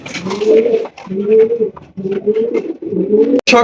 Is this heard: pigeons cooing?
yes